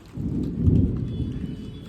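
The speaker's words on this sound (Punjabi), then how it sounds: "ਹੁਣ ਮੀਂਹ ਆ ਗਿਆ ਤੇਜ਼" Heavy rain in Punjab during flooding comes down as a dense, close, steady low roar that swells briefly in the middle, with no voices.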